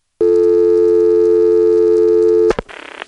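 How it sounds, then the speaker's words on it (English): A telephone reorder tone from a register sender in a senderized step-by-step (XY) exchange at the Occoquan switch, Prince William County, Virginia: a loud, steady two-frequency tone for about two seconds, then a click and a short burst of noisy clatter. "the reorder tone is just there when the register sender drops."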